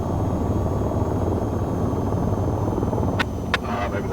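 An AH-94 attack helicopter flies low in formation in the VTOL VR video game, a loud, steady rotor and engine rumble filling the scene, with a couple of brief sharp clicks near the end.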